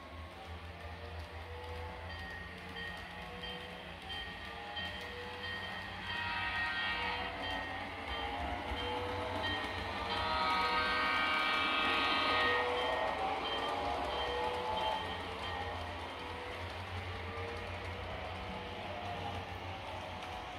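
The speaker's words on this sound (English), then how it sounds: "Now the train is working its way up the hill on the back side of the loop." A model train rumbles and clatters steadily along the track of a layout, climbing a hill on a loop, a continuous mechanical whir that swells slightly louder midway through, with no talking.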